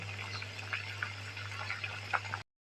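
Cauliflower florets simmering in salted water in a cooking pot give a soft, steady bubbling with faint ticks and pops over a constant low hum, ending in abrupt silence.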